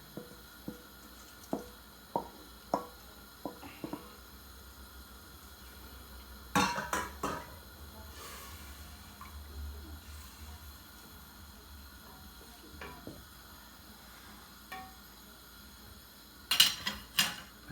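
Rice and stock going into a cooking pot for fried beef and rice: a run of sharp, close clinks and clatters of utensils against the pot, with a busier burst of knocks midway and near the end. No one speaks.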